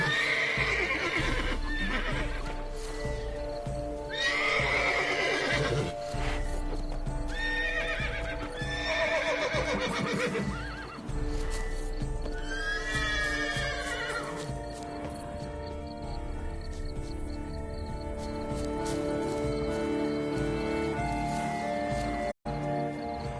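Horse in The Witcher 3 whinnying and neighing several times over steady clip-clopping hooves, with in-game music and ambience running continuously underneath and no talking.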